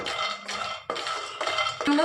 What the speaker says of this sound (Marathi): शेंगदाण्याला भाजून घेऊया।